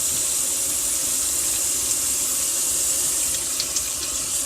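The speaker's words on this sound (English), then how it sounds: "stirring the water." Water swishing steadily in a sink as it is stirred while slime is tried out as hand wash, a close, continuous watery rush with a few faint squeaky glints and no talking.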